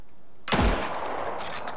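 A single bolt-action rifle shot rings out in the survival game Icarus, a sharp loud crack with a deep thump that trails into a long, rolling echo over steady ambient noise.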